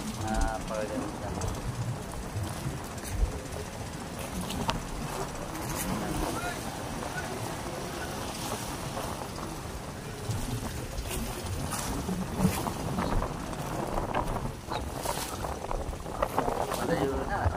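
Outboard boat motor droning steadily on a ride out to sea off Cavite City, with water wash and knocking hull noises, and people talking in the boat throughout.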